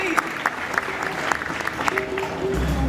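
Crowd claps for a volunteer at an Animal Kingdom bird show, steady moderate applause from an outdoor audience while a presenter talks over it.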